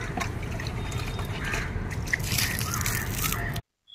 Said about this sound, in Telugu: ఇప్పుడు నీళ్ళు వేసుకుంటున్నాం కదా ఫ్రెండ్స్, మీరు కూడా చూసేయండి